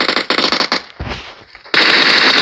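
Rapid bursts of video-game automatic gunfire crackle loudly, stop for a moment, then resume in a sustained volley with sharp, close shots.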